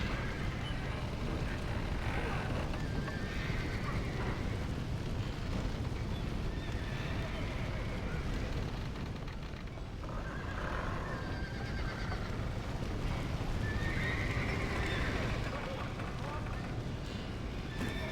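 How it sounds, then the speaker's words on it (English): Horses neigh and whinny amid a chaotic Red Dead Redemption scene, with hooves clopping and loud background commotion throughout; people shout over the din. "Somebody get them horses out!"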